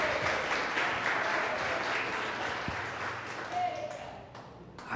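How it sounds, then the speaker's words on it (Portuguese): A church congregation applauds, a dense and sustained wash of clapping from many hands that runs for several seconds before thinning out near the end. "Pode aplaudir ele."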